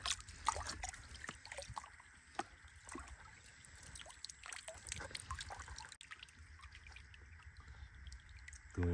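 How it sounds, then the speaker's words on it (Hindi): Water splashes and trickles while a cement mixing tub is washed out, close irregular sloshing and dribbling with scattered knocks, fairly faint and without talk. "अपना दाबड़ा धो लेते हैं दोबारा"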